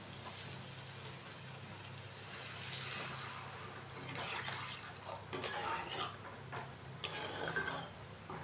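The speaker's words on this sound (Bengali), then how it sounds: "তো এখানে আমরা গরম জল দেবো। গরম জল দিয়ে দেব।" Hot water poured into fried, cooked-down spice paste for an egg poach curry, giving a splashy, rain-like hiss that swells and bubbles in a few loud surges at close range, with no talk.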